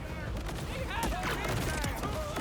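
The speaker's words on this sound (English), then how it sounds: "Because there's so many explosions that happen with this gun." Hail spike gun firing in a video game, a dense rapid chain of explosions and crackling blasts under continuous game effects and a talking voice.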